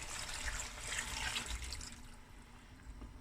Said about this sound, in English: Now I'm going to add my hot water.